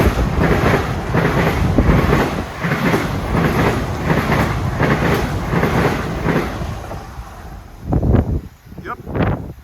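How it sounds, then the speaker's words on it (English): A long New Haven Line regional train rolls past at Mamaroneck station, a loud, sustained rumble with regular rhythmic wheel beats over rail joints, then fading into wind and a few brief sounds at the end. "That's one of the longer regional trains you'll see."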